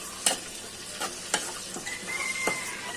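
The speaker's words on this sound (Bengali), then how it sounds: "বোনেরা রসুনটা ভালো করে ভাজা হয়ে গেছে" Garlic crackles in hot oil as a spatula stirs it, producing a brisk, close sizzle broken by several distinct scraping strokes against the pan.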